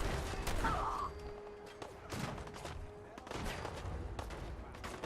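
Gunfire in Fallout 4, bursts of shots cracking through a noisy firefight with several sharp reports spread across the span, moderately loud amid game sounds.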